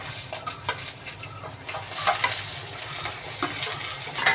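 Dried red chillies and curry leaves frying in hot oil in a pan while making chutney, a steady crackling sizzle with spoon scraping and stirring clinks, close and without talk.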